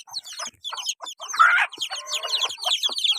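A white hen clucks close by in a series of short, choppy calls, with a louder squawk partway through.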